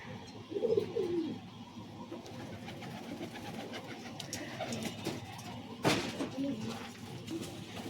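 Domestic pigeons, including Giribaz, Madrasi and Malwai breeds kept in a loft, coo in soft repeated phrases amid steady background chatter and rustling, with a sharp thump partway through.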